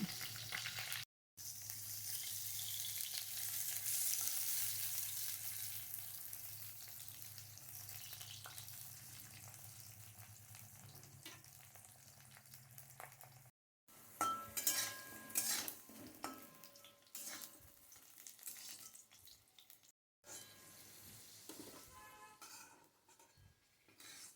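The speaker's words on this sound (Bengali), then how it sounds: "এখন আমি আলুগুলো এক এক করে দিয়ে নিচ্ছি আর আলুগুলো আমি খুব ভালো করে ফ্রাই করে তুলে নেব" Potatoes are fried in mustard oil in a wok, a faint steady sizzle broken by brief silences, later joined by clinks and scraping of a utensil against the pan.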